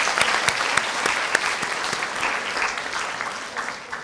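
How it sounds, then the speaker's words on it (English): An audience at a Mandela Day 2024 ceremony, following choir performances, claps steadily in sustained applause, a dense, even patter of many hands that swells slightly and fades near the end. "Can we have another round of applause?"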